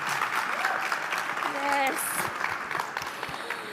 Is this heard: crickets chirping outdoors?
no